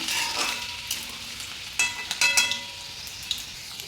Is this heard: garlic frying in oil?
yes